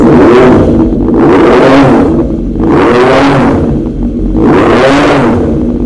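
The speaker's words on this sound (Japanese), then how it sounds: "吹き上がりいきます" A Honda CBX550F motorcycle with a chrome collector exhaust revs hard four times in a row, each burst rising and falling back to a rumbling idle, loud and close.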